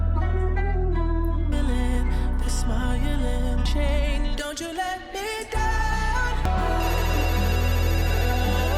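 A telephone rings as part of a song, its repeating ring blended into a dense, loud musical mix with no talking.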